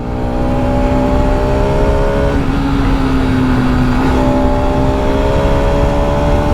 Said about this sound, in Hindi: इंजन बहुत हेल्दी साउंड कर रहा है, बहुत ही हेल्दी।